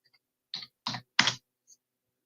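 A short burst of computer keyboard typing, three crisp separate keystroke clusters close to the mic, with near silence between them and a faint click at the end.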